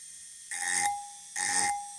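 An Arkansas stone bit in a drill grinding into glass during engraving, two whining bursts of about a third of a second each over a steady motor hum, close and alone.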